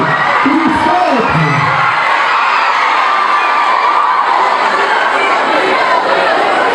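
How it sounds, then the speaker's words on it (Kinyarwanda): A large live audience cheers, shouts and applauds a performer named Scott, a loud, dense and sustained roar of voices and clapping with no pauses. "Amashyi menshi cyane kuri Scott"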